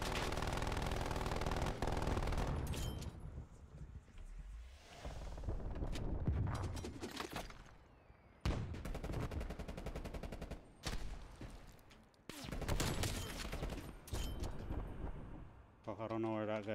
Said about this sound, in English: this fucking turret gonna kill me again